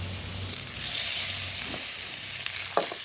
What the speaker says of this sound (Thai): ก็เอากระเทียม กับถั่วเน่าแผ่นที่ผมตับอย่างนี้ครับลงไปผัด ใส่น้ำมันนิดหน่อย ผัดใส่หมูเลยครับ